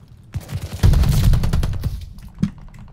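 Dense bursts of gunfire from the video game Call of Duty Vanguard during a ranked match, with rapid overlapping shots forming a loud sustained volley and a sharp single report near the end.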